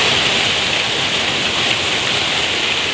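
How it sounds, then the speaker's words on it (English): Heavy rain pouring down outside, a dense, loud, continuous hiss with no breaks and no voices. "This rain is no freaking joke."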